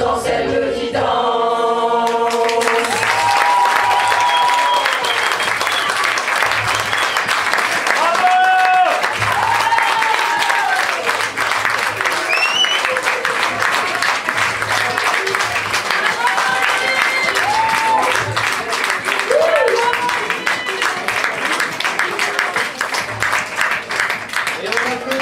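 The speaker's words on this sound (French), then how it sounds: "on applaudit bien fort Marc, Sylvie et Valérie" Audience at a tenth-anniversary stage show applauding performers as the music ends, sustained loud crowd clapping over a lingering musical tail and faint voices.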